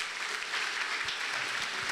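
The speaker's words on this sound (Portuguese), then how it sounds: "Aplauda bem forte aí." A church congregation applauding during a Pentecostal sermon, a broad even patter of clapping that carries on throughout, moderately loud and reverberant, with no voices over it.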